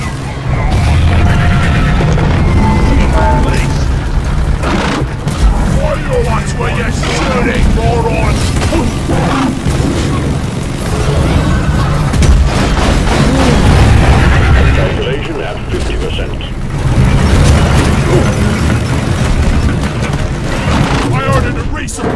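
Explosions and mechanical combat noise in Deep Rock Galactic, a dense, loud, continuous wash of booms and bursts with layered machinery and game effects throughout, swelling again near the end, voices talking over it.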